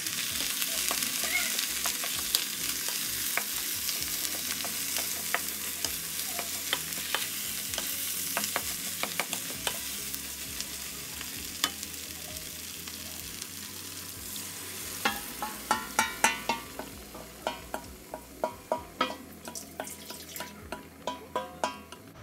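Mung bean stew simmering in a pot on the stove, a steady bubbling sizzle with clinking stirring sounds and sharper pops toward the end, no voices.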